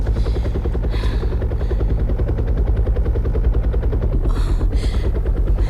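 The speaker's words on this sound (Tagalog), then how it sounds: "Nagpatungod ang helikopter sa mga kabalayan ka Mary." A helicopter passes low over a cluster of houses, its loud rotor chop thudding in a fast, steady rhythm throughout with no voices over it.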